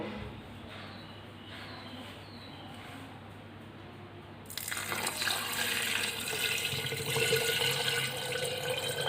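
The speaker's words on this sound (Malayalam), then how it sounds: "ഞാനൊരു രണ്ട് ലിറ്റർ വെള്ളമാണ് തിളപ്പിച്ച് ആറ്റി വെച്ചിരിക്കുന്നത് നമുക്ക് ഇതിൻ്റെ ഈ പരിണിയുടെ ഏകദേശം ഒരു മുക്കാൽ ഭാഗത്തോളം നമുക്ക് ഒഴിച്ചു കൊടുത്താൽ മതിയാവും" Boiled, cooled water pours into a jar of banana wine mixture, starting halfway through as a steady splashing gush over a low quiet background.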